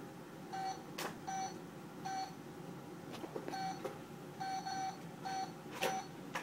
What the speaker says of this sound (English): You have to dial the phone, Laney.